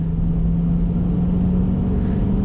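A 2021 Chevrolet C8 Corvette engine drones at a steady, loud pitch from inside the cabin as the car accelerates in automatic mode, with no clear break for a gear change.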